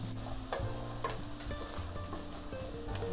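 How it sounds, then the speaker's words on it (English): Broccoli stems fry in a pan with coconut aminos while a utensil stirs them, making soft, faint sizzling with a few light scraping and clicking strokes. "Just give that a stir and add the remaining coconut aminos."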